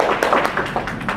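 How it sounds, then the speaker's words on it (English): A few people at a 9/11 meeting kickoff clap, a short burst of scattered, uneven hand claps, close and fairly loud, thinning out quickly. "please give both of them a round of applause"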